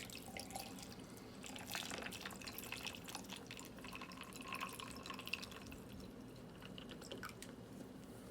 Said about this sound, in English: I'm gonna pour the water in.